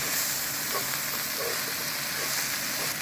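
Chopped red and green peppers sizzle steadily in a hot pan for a zucchini and eggplant dish, a continuous close frying hiss with faint stirring, no voices.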